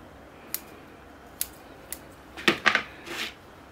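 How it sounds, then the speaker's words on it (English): Small shears pruning the longer branches of a bonsai tree: several sharp, isolated snips spaced apart, then a quicker cluster of crisp cuts close up near the end, with no speech. "I'm going to prune off my longer ones, kind of a general trim on the edges"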